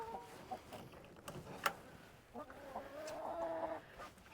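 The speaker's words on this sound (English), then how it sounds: "So they're bougie chickens." Backyard chickens cluck softly and fairly far off in low, scattered calls over outdoor ambience, with one sharper squawk partway through.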